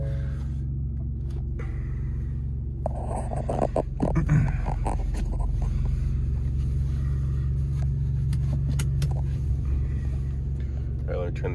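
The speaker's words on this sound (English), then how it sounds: "We're gonna start up the truck" A Ford F150 work truck cranks and starts, its engine catching into a steady low idle rumble that continues to the end, with brief rattling at ignition.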